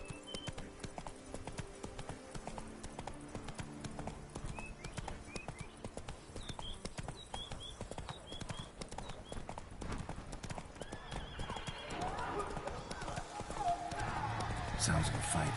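Roach the horse from The Witcher 3 gallops with steady, dense clip-clop hoofbeats and lets out an occasional neigh, all under game music and voices that grow louder toward the end.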